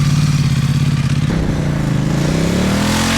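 A bobber motorcycle pulls away, its loud close engine note climbing as it revs up and rides off.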